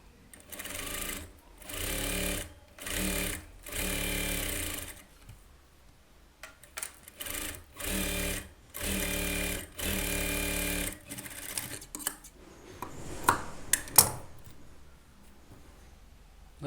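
Sewing machine stitching a blouse lining in a tailoring setting, running in several loud bursts of a few seconds each, separated by short pauses, then lighter handling clicks near the end.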